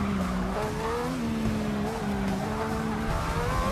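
A Lotus Formula One car races around Monza in Forza Motorsport 6, its engine whining steadily and shifting pitch with throttle and gear changes, plus occasional tyre scrub, loud and continuous with no talk.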